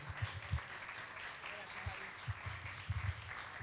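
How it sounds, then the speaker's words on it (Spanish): Faint, distant applause from the audience at a university marketing week event, a soft wash of clapping under low voices and scattered bumps, quiet throughout. "Un fuerte aplauso."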